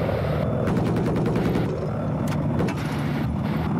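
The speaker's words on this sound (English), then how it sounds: "I've got a mortar on the building that they're on." Mortar fire and explosions in the video game Battlefield 4, a dense run of sharp bangs over a steady roar of engines and combat, loud and continuous from start to end.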